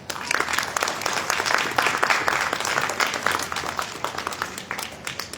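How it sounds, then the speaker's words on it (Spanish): Sustained applause from an audience at a book fair panel on Peruvian feminism, dense clapping running steadily throughout at moderate loudness, with no talk over it. "Recibámoslas con un fuerte aplauso."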